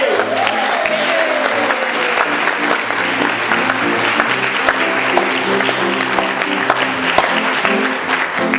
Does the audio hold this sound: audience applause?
yes